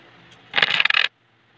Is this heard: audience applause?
no